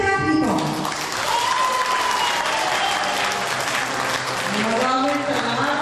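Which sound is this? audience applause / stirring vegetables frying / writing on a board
audience applause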